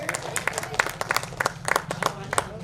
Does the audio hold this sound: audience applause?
yes